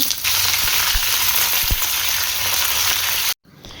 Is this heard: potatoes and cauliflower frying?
yes